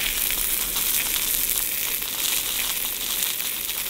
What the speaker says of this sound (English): Grilling a couple of sausages on the pan